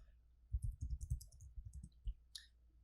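Someone types on a computer keyboard while entering header text in Word 2019. Quick, soft key clicks cluster in a short burst, then a single louder click follows. The typing is close but quiet, with no one speaking.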